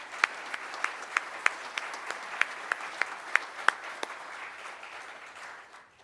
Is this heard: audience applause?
yes